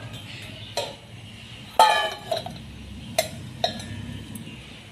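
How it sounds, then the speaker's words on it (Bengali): A metal wok (karahi) is set down on a home kitchen stove for frying red amaranth greens with potatoes, giving several sharp metallic clinks and knocks over a low steady background hum. "কড়াই বসিয়ে দিয়েছি।"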